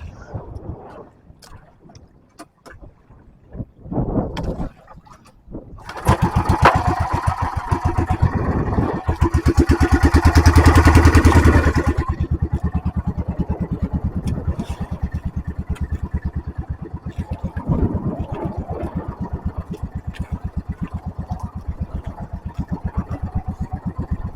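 A motorcycle engine sputters and coughs a few times, then catches with a loud burst and settles into a steady, close, rumbling idle that continues to the end.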